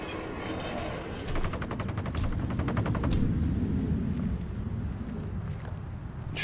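Gunfire in the video game Sniper Ghost Warrior 2, with a few sharp shots followed by a rapid rattling burst and more rapid firing, loud and close over a steady rumbling background.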